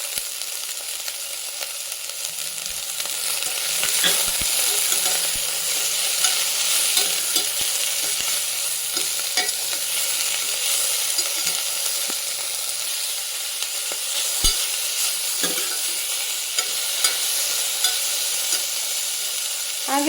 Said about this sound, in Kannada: ಸ್ವಲ್ಪ ಹಾಗಲಕಾಯಿ ಎಣ್ಣೆಲೇ ಬೇಯಬೇಕು.